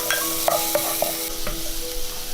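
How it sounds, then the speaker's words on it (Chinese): Minced garlic stir-frying in a little oil in a wok, a steady sizzle broken by several distinct scraping stirs of the spatula, close and fairly loud. "先把蒜蓉放下来炒香"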